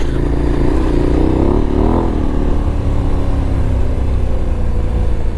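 An adventure motorcycle's engine drones steadily and loudly on a ride, with wind rush and a brief rise in pitch partway through.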